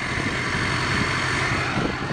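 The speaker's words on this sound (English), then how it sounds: "hear that turbo whine" A 2007 Ford F350 Lariat Powerstroke diesel with aftermarket exhaust runs with a steady high turbo whine over a low engine drone, heard close and continuous without talk.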